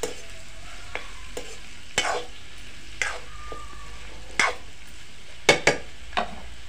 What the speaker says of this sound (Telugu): వంకాయలు వేసి మంచిగా కలిపి ఆలుగడ్డలు వేసుకోవాలి.